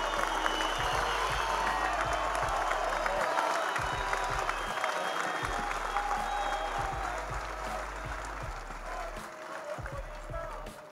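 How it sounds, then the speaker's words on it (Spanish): A large crowd claps and cheers for the coach of football club América de Cali at the team's official squad presentation, dense continuous applause that slowly eases over about eleven seconds. "un aplauso para el DT."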